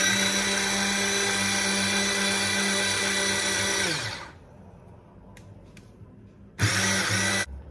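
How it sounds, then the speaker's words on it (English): A blender mixing almond milk whirs loudly with a steady motorized hum, winds down to a stop, then roars back on briefly after a short pause. "I'm gonna throw this in the mixer blender actually"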